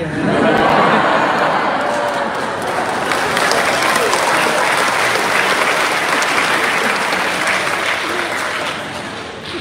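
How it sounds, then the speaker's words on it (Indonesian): An audience at an Indonesian family seminar on marriage breaks into loud, sustained applause that fills the whole stretch, dense and steady before tapering slightly at the end. "Dan Anda jangan tepuk tangan dulu."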